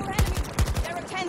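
Burst-fire weapon in Battlefield 2042, two quick loud bursts of about three rounds each, firing in a tight rhythm.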